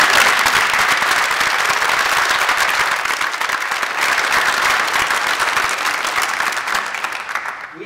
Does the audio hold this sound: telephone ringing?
no